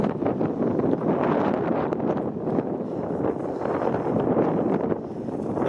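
Wind buffeting a microphone during a street walk along Warden Avenue in Scarborough, Toronto: steady, loud, rumbling gusts throughout with no clear speech.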